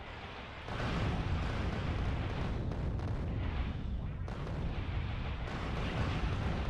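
Dense, continuous barrage of rumbling explosions in a video game (the Rampant mod), kicking in after a brief quieter start and staying loud and unbroken, like heavy artillery fire rolling on throughout.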